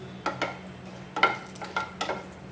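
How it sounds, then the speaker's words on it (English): Dried Kashmiri red chilies roast in warm oil in a pan for sambar, with a steady low sizzle under several sharp scraping stirs of a spoon against the pan. "Then I'll add in the dried red chilies."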